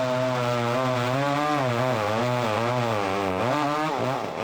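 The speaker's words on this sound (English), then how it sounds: "the industry standard go-to guaranteed tool for a haunt actor to get a reaction out of someone has been the" A haunted-house scare actor's chainsaw revs loud and close, a continuous buzzing engine whine whose pitch dips and climbs, heard alone.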